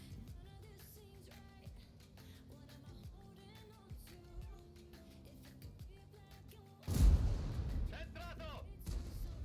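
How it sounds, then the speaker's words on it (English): A tank in World of Tanks fires a HEAT round with one loud, sudden boom about two-thirds through, over steady game music and engine rumble, and the blast rings on to the end. "we're firing a little more heat rounds than I wanted to this match"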